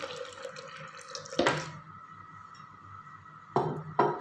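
Milk is poured into blended falsa fruit for a milkshake, giving short splashy liquid bursts with quieter gurgling between them, near and fairly loud.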